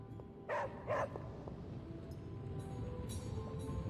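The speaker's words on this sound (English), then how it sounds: "Who's a good girl? It is my Charlie girl." A dog in the video game Marvel's Midnight Suns gives two short, close barks in quick succession over a soft background hum.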